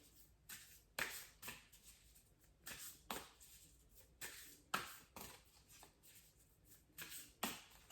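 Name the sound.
shuffling a deck of cards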